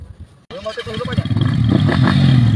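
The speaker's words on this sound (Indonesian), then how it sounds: "Ayeuna hirupan dulu motornya masing-masing." Several motorcycles at a race start starting up and revving, with engine roar building steadily after a brief silence and continuing loud over shouting voices.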